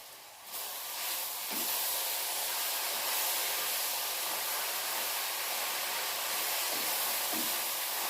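Beef and its juices sizzle in a hot stir-fry pan for a steak stir fry, a steady, loud hiss that swells just after the meat goes in and then holds evenly.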